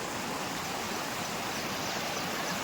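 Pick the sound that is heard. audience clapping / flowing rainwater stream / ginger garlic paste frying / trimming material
flowing rainwater stream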